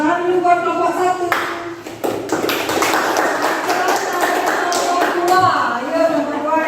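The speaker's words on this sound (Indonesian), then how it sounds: "Tepuk tangan dulu buat kelompok 1." A classroom group applauds, with a burst of mixed clapping and tapping that runs for several seconds. A teacher's voice is heard speaking before and over it.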